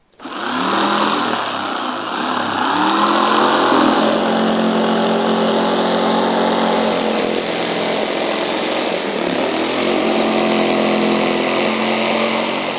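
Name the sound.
jigsaw cutting wood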